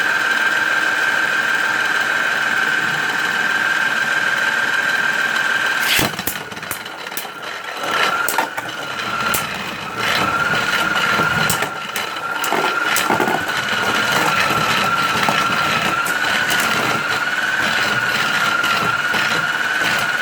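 A motorized Beyblade Burst Surge Motor Strike launcher whirs loudly and continuously at a high pitch, then gives way to rapid rattling, clacking and whining as the spinning tops collide and keep running.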